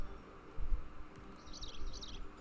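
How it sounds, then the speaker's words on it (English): A Pokémon in the video game New Pokémon Snap tweets like a bird, faint high chirps, the longest a warbling run near the end, over a soft low background. "Why do you think they tweet like a bird?"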